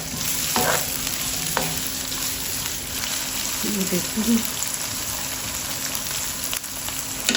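Onions sizzle steadily in a hot pan, with occasional clicks of stirring and a brief spoken phrase over the frying.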